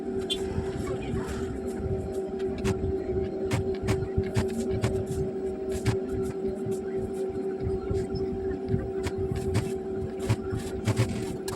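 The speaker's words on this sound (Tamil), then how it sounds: "ஸோ இன்னொரு பக்கமாக நான் வந்து ஸ்டிச் பண்ணி எடுத்துக்கிறேன்" A sewing machine stitches flowered frock fabric with a steady whirring hum and rapid ticking needle strokes, running continuously at close range.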